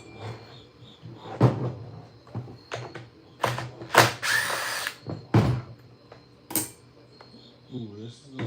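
A power drill removes screws in several short bursts of whirring, separated by clicks, clatters and handling noises close by, with faint talk in between.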